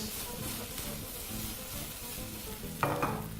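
Cooked rice and beans tossed in a hot pan, a soft continuous sizzle with light scraping and shuffling movements, ending in a brief sharper clatter, heard alone without talk.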